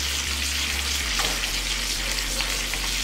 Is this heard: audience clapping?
no